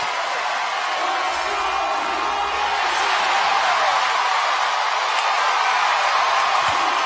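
A big CrossFit Games arena crowd roars steadily behind a female lifter racing a clean and jerk speed ladder, a loud, dense, sustained wash of cheering that swells slightly toward the end.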